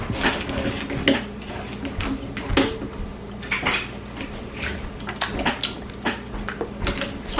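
Metal cutlery clinking and rattling as a knife is pulled from a kitchen drawer, a string of close, irregular clatters and knocks with a few louder bangs.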